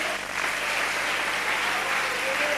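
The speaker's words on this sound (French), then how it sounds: "Encouragez-moi par vos acclamations." A church congregation at a Sunday worship service applauds, a continuous, even wash of many hands clapping at moderate loudness with no pauses.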